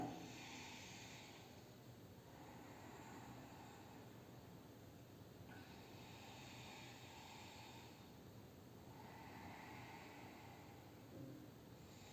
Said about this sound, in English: If you are comfortable, switching to Ujjayi breathing.